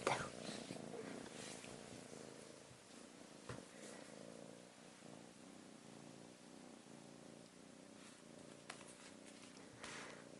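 A cat purrs steadily and quietly up close, a soft rhythmic rumble that continues throughout with a few faint rustles.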